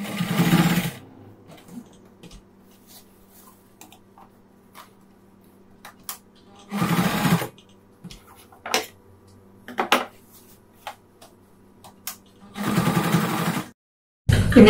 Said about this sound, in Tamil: அதுக்கப்புறம் இப்படி ஸ்ட்ரைட்டா தச்சு வந்துக்கலாம்.